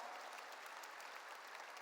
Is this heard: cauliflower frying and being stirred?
no